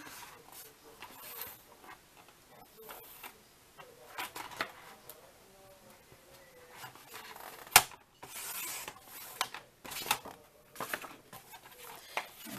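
Olive green cardstock being cut for a card, producing faint, intermittent rubbing, sliding and scraping sounds with a sharp snap near the middle, close and quiet.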